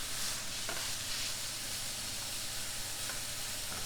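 Several big pork chops sear in a pan, their second side just turned. A soft, continuous sizzle and hiss hold steady and fairly faint throughout, with a few light clicks and no voices.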